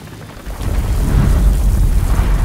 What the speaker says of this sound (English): Those explosions exposed some more bloodstones.